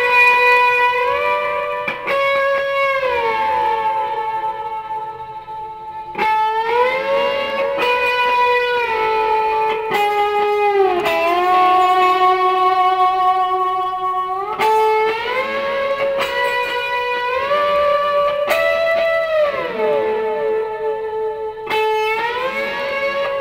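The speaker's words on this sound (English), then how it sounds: "I usually play with a slide and with different effects on it, like so a compressor and reverb and some other stuff on it." Electric guitar played with a slide through compressor and reverb effects, sustained gliding notes sliding between pitches in a steady, ringing solo phrase, loud and close.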